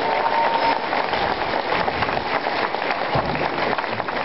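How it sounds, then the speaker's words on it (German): Crowd applause at the opening of the 501st Gallimarkt 2009 in Leer, East Frisia, a dense, steady wash of clapping from a large outdoor gathering that holds at an even level throughout. "Ein Applaus für die Heiderlanders und Bingomers"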